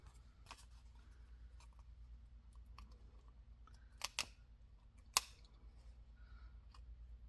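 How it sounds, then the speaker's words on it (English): Scissors snipping excess paper while making a Christmas card, a few quiet, close cuts and clicks spaced irregularly over a low hum. "I'm going to peel this up now and start to cut the excess."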